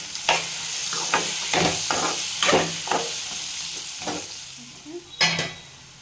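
Raw banana pieces sizzling and frying in a pan, stirred with a spoon in repeated scraping strokes over a steady close hiss.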